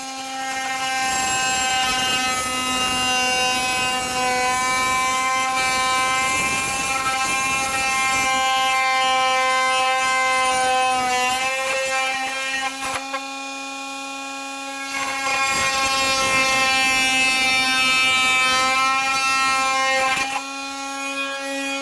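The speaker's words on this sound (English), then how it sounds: "So I'm going to just try to cut on one edge, and then I'll cut on the other edge, and we should have a slot." A power tool cuts a slot into the edge of a robot chassis, giving a steady high motor whine that runs for long stretches, dips briefly around the middle, then resumes before easing off near the end.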